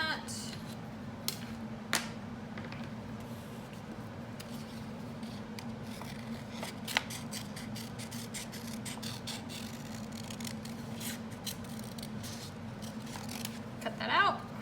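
Scissors snip through paper in an elementary-to-middle-school art class, giving a few sharp isolated clicks over steady room hum, with a cluster of quicker cuts near the end.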